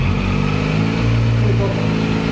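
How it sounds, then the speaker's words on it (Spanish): A Kawasaki Z900 motorcycle with a catalytic converter in its exhaust runs close by, giving a loud, steady engine rumble that holds nearly unchanged throughout with only a slight dip in pitch. "Vamos a ver cómo suena el escape libre."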